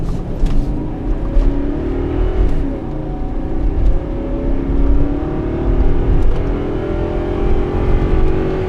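A second-generation Toyota Sequoia climbs uphill at about 5,000 feet under steady acceleration, its engine a loud, low drone heard from inside the cabin, rising in pitch with faint road rumble and no talking.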